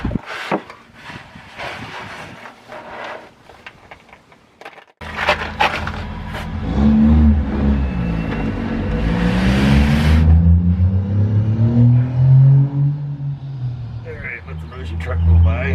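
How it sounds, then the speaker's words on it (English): A truck drives past on a nearby road, a rising and falling engine rumble that swells after a quiet start and holds loud for about ten seconds, with some voice mixed in. "Truck go by."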